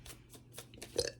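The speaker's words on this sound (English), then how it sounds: "Excuse me, confirmation burp." A person burps quietly at close range, a short low belch that ends the brief moment with no talking around it.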